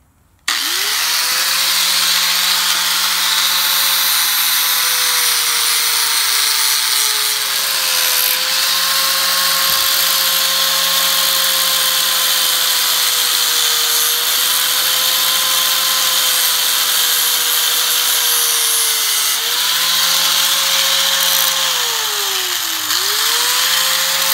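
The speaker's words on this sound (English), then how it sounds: "Grind this up and then see what it looks like." A power grinder cuts into a metal bracket for a four-link suspension with a loud, continuous whine that starts abruptly and holds steady for over twenty seconds, its pitch sagging and recovering as the load shifts.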